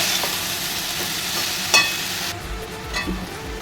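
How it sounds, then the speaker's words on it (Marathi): Spring onion greens are stirred in a frying pan with turmeric and salt, making a steady hiss with soft scraping strokes and one brief clink, close by and without talk. "पहिले टाकायची कांदा पात हलवून घ्यायचे"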